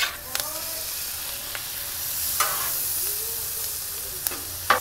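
Salted shrimp scampi with garlic and onions sizzles on a flat-top Blackstone griddle, a constant close frying hiss broken by a few metal spatula scrapes and taps.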